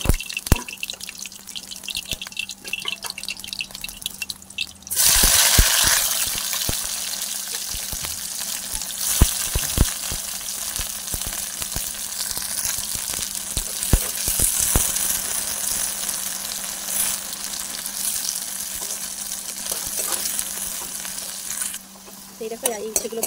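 Sliced bitter gourd frying in hot oil, a steady bright sizzle that swells suddenly as more pieces go in, with clinks and scrapes of a spatula and occasional stirring over the continuous crackle.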